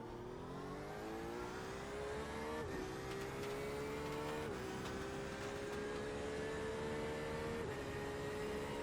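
Porsche, Corvette, BMW and Ford race cars at Monza, engines droning steadily and loudly together, with rising pitch shifts at gear changes as the pack accelerates, no voices.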